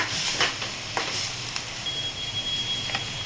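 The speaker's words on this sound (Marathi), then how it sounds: "2 टोमॅटो घेतलेत मी। छान असं तेल सुटेपर्यंत परतून घेणार आहे।" Two tomatoes sauté with onion in hot oil in a pan for paneer bhurji, giving a steady close sizzle broken by a few soft stirring scrapes.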